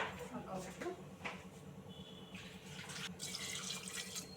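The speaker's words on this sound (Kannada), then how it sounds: "ನಾನು ಇದಕ್ಕೆ ಮುಳುಗುವಷ್ಟು ನೀರು ಹಾಕಿದ್ದೀನಿ" Water runs and splashes into a cooking pot of chickpeas close by, with a person talking over it and a few clinks of kitchenware.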